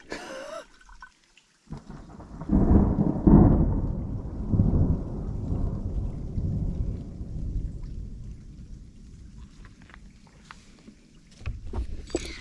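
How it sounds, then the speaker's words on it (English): Thunder from an approaching storm on a mountain trail, a distant rumble that builds into a long, heavy roll and slowly fades, with faint patter and small outdoor knocks near the start and end. "Alright, storm's coming."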